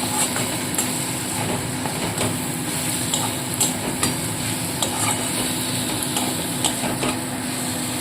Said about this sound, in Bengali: এবার ভালো করে নাড়তে হবে আঁচটাকে কিন্তু একদম কম করে দিয়েছি